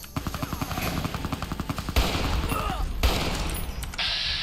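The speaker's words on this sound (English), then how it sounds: "No way they'd shoot that much for training, right? That's so many bullets." Sustained automatic gunfire in the video game Fallout New Vegas, a steady stream of rapid shots that is moderately loud, with heavier blasts breaking in and a continuous mechanical background.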